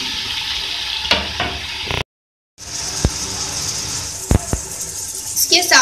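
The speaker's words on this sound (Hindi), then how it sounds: "अब मैं इसमें ऐड करूंगी गोश्त।" Beef pieces going into a hot pan for aloo gosht taheri, a steady sizzling hiss of frying meat with a few clattering utensil knocks, close and fairly loud, briefly cut to silence midway.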